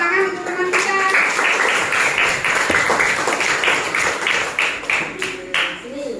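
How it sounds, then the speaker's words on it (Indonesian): Students in a classroom clap together to welcome two classmates presenting their group's work, a dense run of many hands that thins toward the end, with a few voices over it. "Tepuk tangan untuk teman kita."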